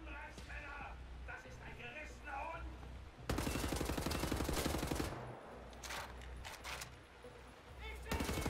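Bursts of rapid gunfire hit soldiers in the shooter game Wolfenstein: The New Order, loud and dense in several volleys between quieter stretches, with someone talking over the quieter parts.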